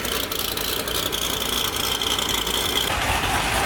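A Corvette fitted with a ProCharger supercharger idles at a car show, a steady rumbling engine drone with a faint high whine riding on top, continuous and fairly close.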